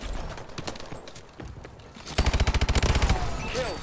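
Call of Duty gunfire in a multiplayer match: a fast automatic burst of about a dozen loud, evenly spaced shots in the second half, after quieter game noise and scattered effects.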